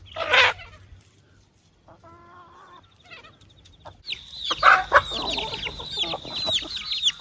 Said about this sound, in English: now we've put the roosters in there, so they'll dig around